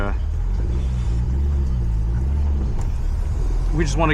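A Chaser running an untuned base map after an EMU engine-management install drives along a street, its engine a low, steady rumble that climbs slightly in pitch, with a brief voice near the end.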